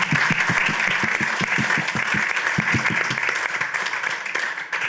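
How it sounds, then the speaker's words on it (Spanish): An audience at a Chilean short film festival talk applauds loudly and steadily, many hands clapping together close by, with a few sharper claps standing out near the front. "Aplausos."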